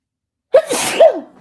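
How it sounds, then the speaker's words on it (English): A single person sneezes twice in quick succession, each a sharp gasping intake bursting into a loud, close explosive release, with no other voices around. "Hold on, I gotta sneeze again."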